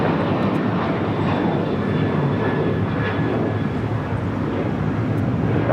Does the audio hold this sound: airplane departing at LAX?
yes